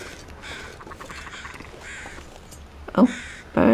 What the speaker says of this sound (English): Oh, birds.